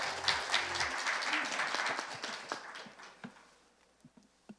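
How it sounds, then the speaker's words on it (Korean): An audience at a scientific conference session applauds loudly at first. The applause thins to scattered, separate claps and then fades into near quiet. "박수 주시죠."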